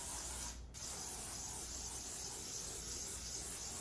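DeoxIT contact cleaner sprayed onto a Roland System 100 module circuit board, a steady close hiss of aerosol with a brief pause near the start.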